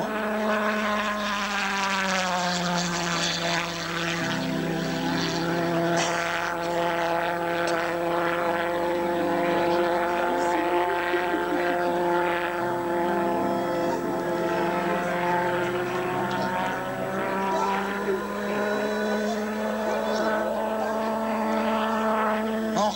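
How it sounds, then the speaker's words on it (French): A pulse-jet-powered model aircraft flies at an air show, its loud, steady buzzing drone droning on for the whole stretch with gently shifting pitch as it passes, with no talk over it. "tonneau de ce modèle propulsé par un pulsoréacteur"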